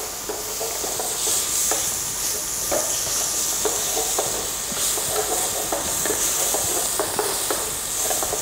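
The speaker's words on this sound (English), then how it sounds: "sweat your onion until it caramelizes" Onion sweats in melted fat in a pan, giving a steady, even sizzle and hiss with small crackles and occasional stirring scrapes, close and continuous, with no talk.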